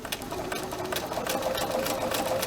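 A sewing machine runs fast and steady with a long stitch length and no backstitching, giving a close, continuous rapid stitching chatter from start to finish.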